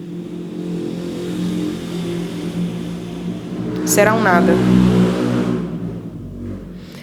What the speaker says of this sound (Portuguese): Será um nada que passa, como esses carros, essas motos.